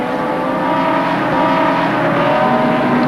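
Race cars at Amaroo Park in 1982, with Terry Finnegan braking hard under pressure from Fred Gibson: a loud, steady roar of engines that holds near and dense throughout, with no break or fade.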